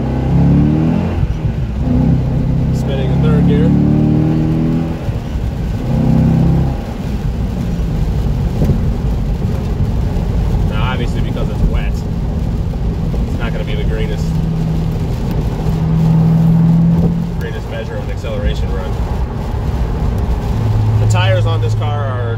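A Chevrolet Corvette Z06 on Michelin Pilot Super Sport tires accelerates hard through second and third gear with wheelspin, its engine roaring loudly and rising in pitch between shifts, close and continuous throughout.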